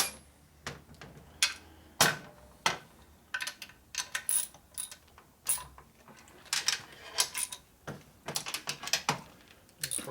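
A torque wrench tightens the bolts on a Harley shovelhead engine, giving a series of sharp ratcheting clicks in irregular bursts, close and fairly quiet, with short pauses between pulls.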